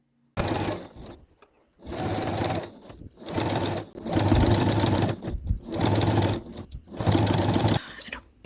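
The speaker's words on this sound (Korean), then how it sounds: "재봉틀로 박을 겁니다." A sewing machine stitches a patchwork drawstring cylinder pouch, running in loud, steady whirring bursts with short pauses between each stretch of sewing.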